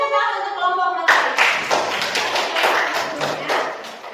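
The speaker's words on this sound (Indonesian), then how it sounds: "Kasih tepuk tangan untuk kelompok matahari." Classroom students give a group a round of applause after a presentation, scattered uneven claps and taps following a brief spoken line, moderately close and loud.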